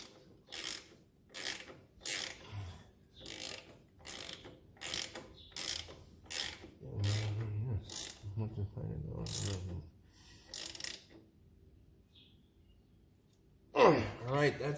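A ratchet tightens the clutch lever pivot bolt on a 1999 Kawasaki Vulcan 1500 Nomad, heard as a steady series of crisp, close clicking strokes that stop near the end, with someone talking quietly over part of it.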